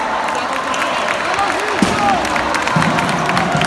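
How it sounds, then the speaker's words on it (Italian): Futsal crowd in an indoor arena applauds a goal during a Serie B match, a steady wash of clapping and cheering with a commentator talking over it. "L'applauso del pubblico del Paloreto per 5 di Limberto."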